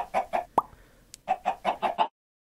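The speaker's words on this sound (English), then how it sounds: "Yo chicken!" A Minecraft-style chicken clucks in short, evenly spaced bursts, with a sharp pop in between and a brief pause before another quick run of clucks, close and clear with no talking.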